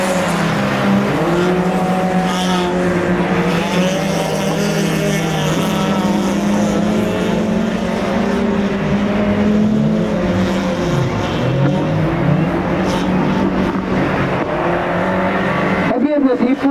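Race cars roar through the final lap of the Russian Winter 2022 winter auto race at Slobodskoy, a loud, continuous engine drone with rising and falling pitch, and a voice talking over it.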